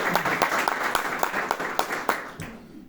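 An audience breaks into applause at a book promotion event: a dense, steady clapping of a moderate crowd for a few seconds that fades out at the end.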